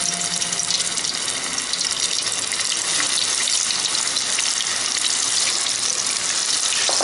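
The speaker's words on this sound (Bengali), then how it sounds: "তেলটা গরম হয়ে গেছে। এবারে যে গোবিটা আমি রেখেছিলাম, এই গোবিটা আমি একটা একটা করে এর মধ্যে জাস্ট এরকম করে নেব" Cauliflower pieces for Gobi 65 frying in hot oil, a loud, steady, hissing sizzle that stays constant throughout with no talk.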